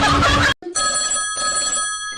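A brief burst of voice cuts off, then a telephone bell rings with a bright, sustained trilling tone, pausing briefly before continuing.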